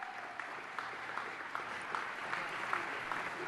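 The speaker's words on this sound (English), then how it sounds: "Let's give him one more round of applause" People in a Los Angeles city council meeting chamber give a speaker a round of applause: sustained, even clapping from a moderate crowd, heard somewhat distant and soft, without speech over it.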